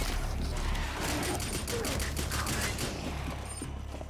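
Rapid gunfire in the video game Rainbow Six Extraction, a dense burst of repeated shots running almost the whole time, loud and close, then thinning toward the end, with no voices.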